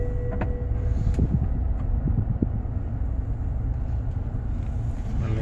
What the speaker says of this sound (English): Now I'm going to drive down the street, this little back road we have here